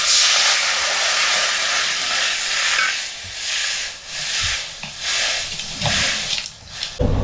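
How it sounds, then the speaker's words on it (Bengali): Water heating in a wok on a stove for a coconut recipe, a loud steady hiss of steam with gentle rising and falling swells and a few light clinks, no voices. "কড়াইতে জলটা দিয়ে প্রথমে গরম করে নেব।"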